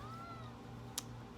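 A cat gives one faint, short meow at the start over a quiet indoor hum, followed by a single sharp click; no one speaks.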